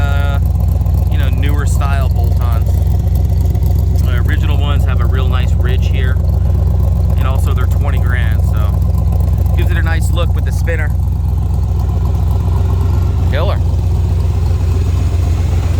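A 1963 Chevrolet Corvette split-window with bolt-on parts idles steadily nearby, its deep, even engine rumble running throughout while people talk over it.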